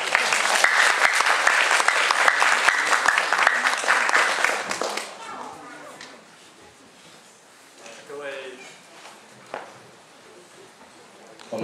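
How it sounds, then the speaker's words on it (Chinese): An audience claps loudly and steadily to welcome a speaker to the podium at a Chinese natural therapy society lecture on nutrition. The clapping holds for about five seconds, then stops abruptly, leaving faint room noise and a few scattered sounds. "请大家掌声欢迎肖副理事长"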